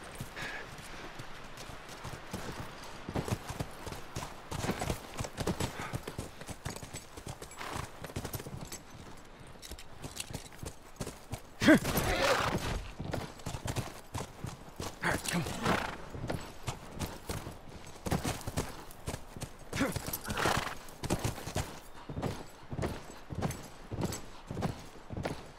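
Steady clip-clop of horse hooves walking throughout, with a horse whinnying now and then, from the video game The Last of Us Remastered; no talking.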